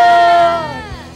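A church congregation at an Easter service cheers and shouts together, a loud burst of crowd voices that swells at the start and then fades quickly.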